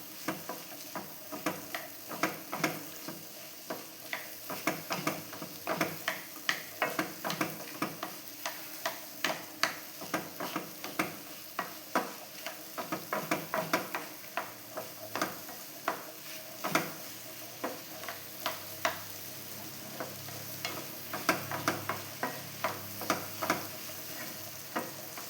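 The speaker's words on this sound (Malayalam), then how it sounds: "നെയ്യിൽ നമ്മൾ പഴം ഒന്ന് വഴറ്റിയെടുക്കണം." Bananas sauté in ghee with a soft, constant sizzle, punctuated by frequent clicking taps and scrapes of a spoon against the pan, close and fairly quiet, with no talking.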